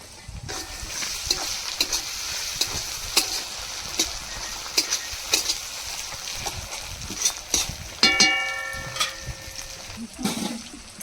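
Chopped tomatoes and green chilies sizzle in a frying spice paste for a fish-head muri ghonto, with a continuous crackling fry broken by frequent scraping stirs, and a short voice passing over it.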